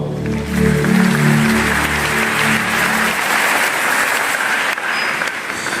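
A church congregation claps and cheers in sustained, dense applause, loud and close, with voices mixed into the ovation at first before it settles into steady clapping.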